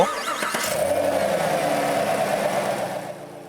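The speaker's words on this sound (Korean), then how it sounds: "대배기량 엔진을 바탕으로" A 2018 Chevrolet Camaro SS large-displacement engine rumbles loudly and steadily at a low idle after a quick start, close up and with no talking.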